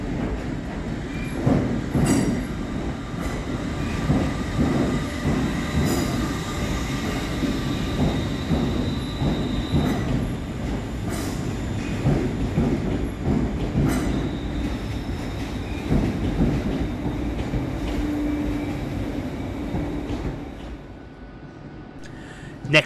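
West Midlands Railway Class 350 electric unit pulling into Birmingham New Street station at the end of a service from Rugeley Trent Valley, a steady rolling rumble with wheel squeal and clatter, close and continuous before easing at the end.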